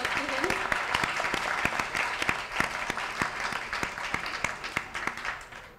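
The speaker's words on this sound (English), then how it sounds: "Big round of applause to him." Audience at an annual photo competition event applauding, dense sustained clapping with sharp individual claps standing out, moderately distant and continuing for several seconds before fading.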